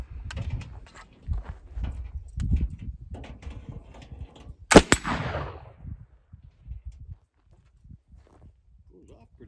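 One sharp black powder gunshot, loaded with a cotton ball, cracks out midway and then trails off, surrounded by low rustling and handling noise.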